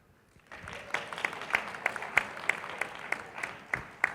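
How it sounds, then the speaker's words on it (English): An audience at a conference panel session breaks into applause after a quiet start, a few seconds of scattered, moderately loud clapping in an indoor room. "Round of applause for them."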